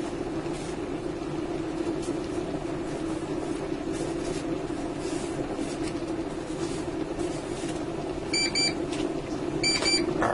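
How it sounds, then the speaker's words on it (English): A T-fal OptiGrill beeps twice, short electronic tones near the end, to signal it has reached temperature, over a steady kitchen hum and faint background noise. "now that's beeping to tell me that's up to temperature"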